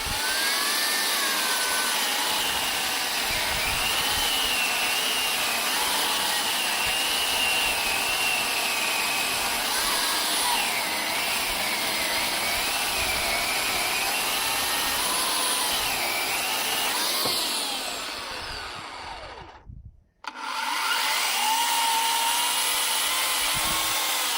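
An AL-KO EKI 2200 40 electric chainsaw, rated 2200 W, runs with a steady, close, high whine for about twenty seconds. It cuts out abruptly, then starts again at full speed. No one speaks.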